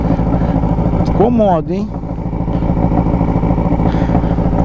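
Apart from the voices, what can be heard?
Yamaha motorcycle riding and accelerating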